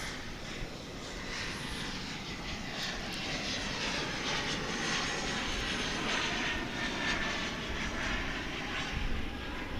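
An Embraer 175 regional airliner arriving at Dallas Fort Worth airport, its engines a steady, broad roar held at a fairly constant loudness for about ten seconds with no talking.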